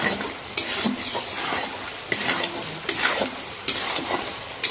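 Roughly 2.5 kilos of mutton curry with fried potatoes stirred in a pot, giving repeated scraping strokes and clinks over a soft background sizzle, close and fairly loud.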